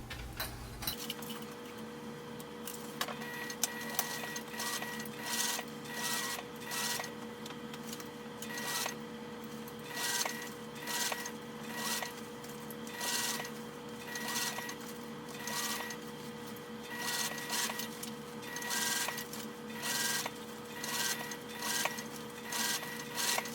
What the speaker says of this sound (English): you're going to sew all the way around the perimeter of this bag